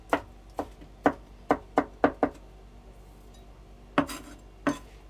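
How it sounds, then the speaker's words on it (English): A knife mincing garlic on a cutting board without a mincer, a series of close, sharp chopping knocks in a quick irregular rhythm, then a pause and two more taps. "I'm mincing garlic."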